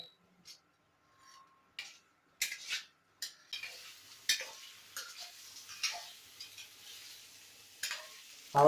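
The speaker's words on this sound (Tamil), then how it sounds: "அவ்வளவுதான், அப்படியே வதக்கிட்டு இருக்கேன்." Goat spleen sautéing in a pan over low heat, with intermittent soft sizzling and a run of scraping and stirring strokes that grow busier toward the end, ending in one louder knock.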